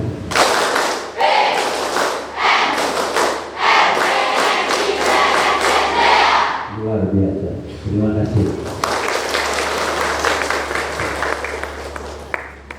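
A crowd of Palang Merah Remaja (Indonesian Junior Red Cross) students at a training event at a vocational school claps in a patterned rhythm while chanting in unison, with loud group voices and a brief pause midway.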